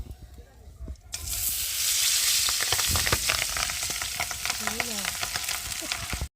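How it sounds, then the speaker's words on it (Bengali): Salt-rubbed pabda fish slide into hot oil after a quiet moment, setting off a sudden loud sizzle that keeps crackling and popping steadily, heard up close. "নুন তো মাখিয়ে রাখা মাছগুলো দিয়ে ভালো করে একে একে ভেজে নেবো"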